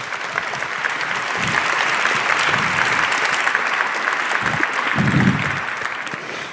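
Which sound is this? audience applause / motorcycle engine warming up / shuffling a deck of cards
audience applause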